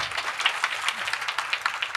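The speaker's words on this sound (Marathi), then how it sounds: "अजून जोरात वाजली पाहिजे टाळी" An audience at a Navratri kirtan gathering claps as a dense crowd, a steady patter of many hands that carries on without a break at moderate loudness.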